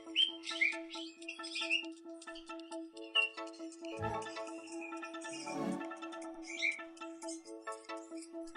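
Cockatiel chirping and whistling, a run of clear, close tweets and warbling calls repeating through the whole stretch with a steady tonal drone beneath.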